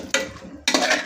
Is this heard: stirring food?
yes